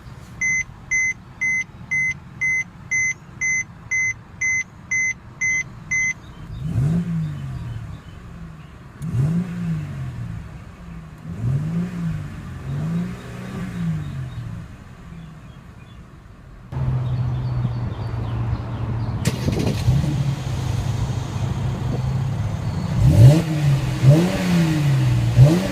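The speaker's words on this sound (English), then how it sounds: "let's start it up and see how it sounds" A 2014 Mercedes-Benz C350 with push-button ignition: a repeated electronic chime, then the engine catches and idles, followed by several quick revs rising and falling, a louder steady idle, and more blips of the throttle close by.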